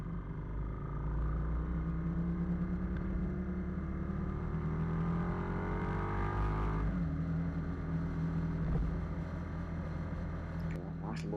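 A car pulling away from traffic lights on a road drive, a steady close engine hum with a gradual rising pitch as it accelerates, continuous and fairly quiet.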